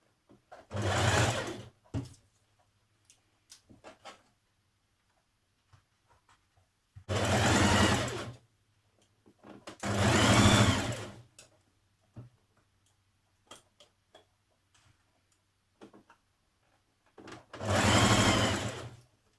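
A sewing machine stitches a skirt waistband in four separate bursts of rapid, steady whirring, each lasting a second or two, with quiet pauses and small handling noises in between.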